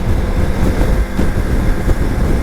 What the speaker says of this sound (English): I like to see what the wind sounds like at 50.